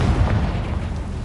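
Bombarda and Confringo spells explode in the Hogwarts Legacy video game, a dense, loud, continuous rumbling blast with heavy low boom filling the whole short moment.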